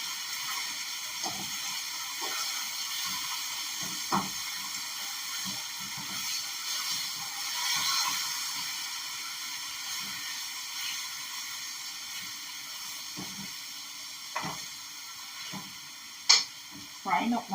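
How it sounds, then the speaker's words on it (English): Meat for brown stew chicken fries in a pan with a steady, close crackling sizzle throughout, broken by occasional clatters and scrapes of stirring and utensils. "Frying up my meat."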